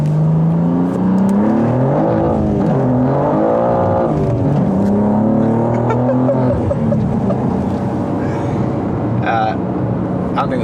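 A BMW M2 G87 in a hard first-gear pull, the engine note rising steeply through the revs with a loud, close, continuous roar, then settling into a lower drone with faint talk.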